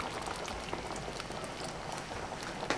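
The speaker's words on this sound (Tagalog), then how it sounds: "At pakuluan uli natin to siguro mga 5 minutes na lang." Beef ribs in creamy mushroom sauce boil in a pot, a steady close bubbling and popping patter that runs throughout, ending with a brief louder knock.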